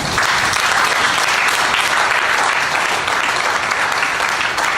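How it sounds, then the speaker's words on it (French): A church assembly of women in Strasbourg breaks into sustained, dense clapping from a large crowd, loud and even from start to finish with no pause. "On acclame les femmes."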